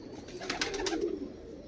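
Record-holder motiyon wale pigeons coo softly with low throaty murmurs, close by, over quiet background noise.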